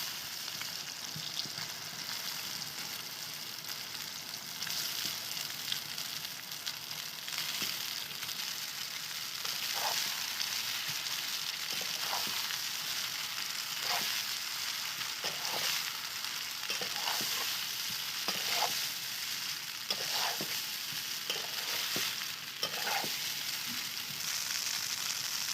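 Pasta frying in a pan with onions gives a steady, soft hiss of oil that runs throughout, with scattered faint ticks and scrapes from stirring.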